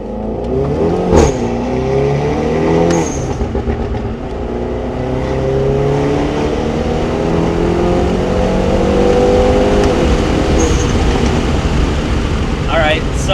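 Hyundai Veloster N fitted with a Takeda intake, its engine revving loudly and continuously, pitch sweeping up and down through the rev range, with a couple of brief higher whistles.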